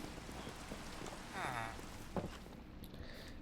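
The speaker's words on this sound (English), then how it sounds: "Of course it's nighttime and raining." Night rain falls in the Minecraft video game as a steady soft patter, with a brief game sound effect partway through and no talk.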